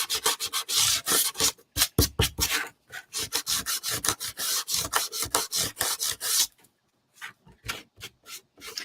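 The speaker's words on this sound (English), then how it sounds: "I'm going to sand this off" Paint being sanded off a gold frame for a tiered tray craft, with quick, rhythmic back-and-forth rasping strokes, loud and close, ending in a short pause and a few lighter passes.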